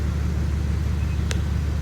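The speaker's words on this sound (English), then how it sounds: "The winch don't like it, but it's doing it." A winch hauls a Cat 922 wheel loader up a ramp, its motor a steady, strained low rumble throughout, close and loud, broken by one brief sharp click.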